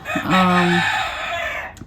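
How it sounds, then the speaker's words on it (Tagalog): A rooster crows once, loud and close, its drawn-out call trailing off over quiet background noise. "Ayan yung manok. Nagpapansin din."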